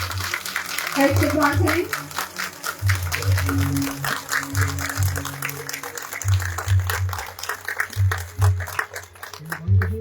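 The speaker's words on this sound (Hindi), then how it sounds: "तो अपनी भरपूर तालियों में मोहतरमा एडमिनिस्ट्रेटर मारिया रमजान साहिबा" Audience applause at a girls' high school results ceremony and classroom inauguration, sustained clapping from a crowd heard under someone speaking over a PA with a low hum behind.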